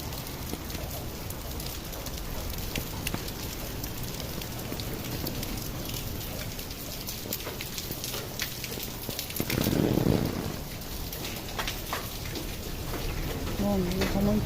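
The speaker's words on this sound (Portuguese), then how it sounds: "muita chuva aqui em Recife, Pernambuco." Heavy rain pours down in Recife, Pernambuco, a dense and constant hiss of drops striking surfaces all around, with a louder gush of splashing about two-thirds of the way through.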